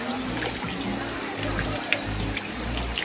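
Mineral water trickles and splashes from rock in a thin steady stream close by at a mineral bath in St Thomas, with a low hum underneath and a few small drips.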